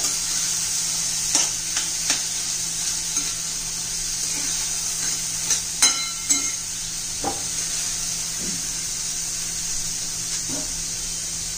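Green moong beans are sautéed in a hot pan under a steady sizzling hiss, with occasional light clinks and scrapes from stirring, close and continuous with no voices.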